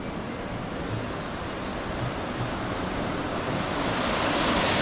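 Water rushes down steadily at the Bhagsu Nag waterfall temple in Himachal, a dense, continuous roar that is close and fairly loud, building slightly over the few seconds, with some wind buffeting the microphone.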